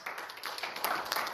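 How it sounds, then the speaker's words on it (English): A church congregation gives a brief, steady round of hand clapping in praise during a service, moderately close with no speech. "Would you give him a hand clap of praise?"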